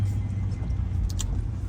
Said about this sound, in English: I'm gonna be quiet and let you guys listen as we drive the TRX.